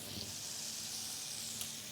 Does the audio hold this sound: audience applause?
no